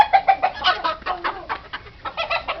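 A brave fighting rooster called Junior, or JR, gives a run of repeated clucks and short calls, close and fairly loud, with no talk over it.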